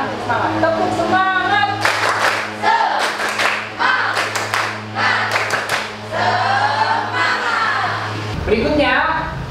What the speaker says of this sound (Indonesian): Coba sekarang semangat. Tepuk semangat.